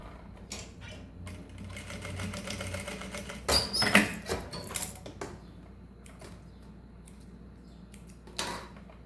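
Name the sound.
sewing machine stitching a mesh fabric pouch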